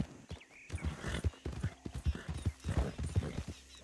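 Horse hooves clip-clopping at a gallop in the open-world western game Red Dead Redemption 2, a steady rhythmic run of close, punchy hoofbeats with no talk over them.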